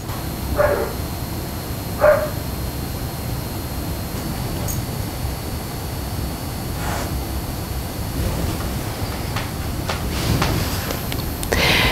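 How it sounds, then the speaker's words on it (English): A dog barks twice near the start, then fainter barking follows later over a low, steady background rumble. "You want to wait until it's done barking?"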